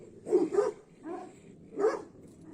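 A dog barks three times nearby, the first a quick double bark, then two single barks spaced apart, with no talking.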